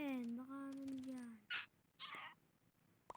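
A dog whimpers high and thin in a home setting, a drawn-out whine followed by two short yelps, while people talk around it.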